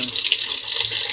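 A Whirlpool washing machine's cold water valve fills the tub, water pouring steadily and fairly loud as a continuous rushing stream, with no talking.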